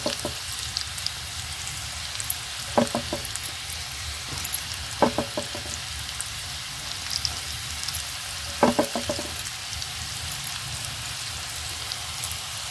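Vegetable pieces shallow frying in a little oil on a low flame, giving a soft, steady sizzle broken by occasional bursts of sharper crackling, with no speech.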